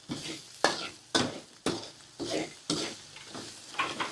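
Sugar simmers in a pot while a spoon stirs it in about seven rhythmic scraping strokes, each a brief swish over a low bubbling sizzle, for a braised pork-leg stew.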